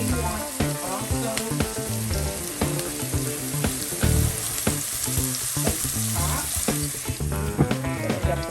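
Mushrooms sizzle and fry steadily in a hot pan for a quiche filling, a loud, close, continuous crackle with occasional stirring scrapes and no speech.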